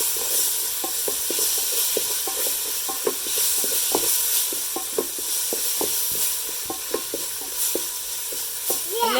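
Food sizzles and fries in a pan under a steady hiss while a utensil stirs and scrapes it in frequent sharp clicks and taps, close up and without talk.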